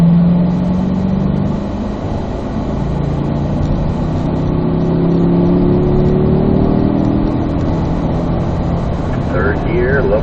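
A Corvette Z06 on a race track pulls in third gear out of a corner, its engine note rising steadily and droning loudly throughout, heard from inside the car.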